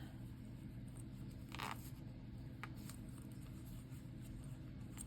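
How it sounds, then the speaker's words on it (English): A zipper pull is slid nose first onto a zipper tape while sewing a pencil pouch, giving two short, quiet zipping scrapes against a faint background hum. "So I slide my zipper pull on, nose first."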